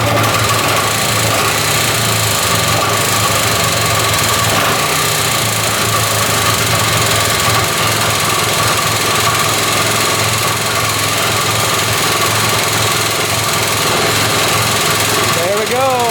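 An old snowmobile engine, bought at auction after sitting untouched for forty years, idles steadily and loudly with a constant buzzing drone and no breaks.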